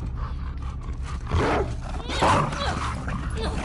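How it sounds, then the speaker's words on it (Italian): A dog in the video game The Last of Us Part II barks and snarls in two rough bursts over the steady hum of game ambience. "C'è un cane qua."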